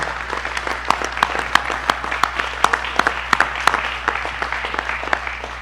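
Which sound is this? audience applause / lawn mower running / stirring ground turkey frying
audience applause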